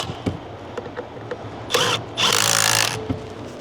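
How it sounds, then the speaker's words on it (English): Power tool on a 3/8 drive driving a 10 mm bolt while working on a 2011 Ford F250 in a barn, a few short clicks and bumps, then a close whirring burst of fastening lasting under a second. "Go ahead and put the bolt in. 10 milli, 3/8 drive power."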